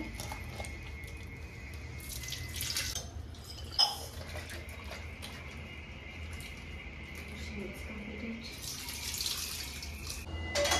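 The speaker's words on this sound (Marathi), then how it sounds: "पाणी घेऊया आणि मग करूया मोरिंगाची वॉशिंग" Water runs steadily from a tap while moringa leaves are rinsed and swished by hand, with a faint clink of a vessel and occasional light speech.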